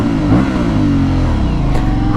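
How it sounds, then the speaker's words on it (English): An Aprilia Shiver 900 motorcycle with its exhaust revving, a loud close engine roar with a brief rise in pitch over a continuous deep rumble. "when I turn this bike on and I listen to these exhausts."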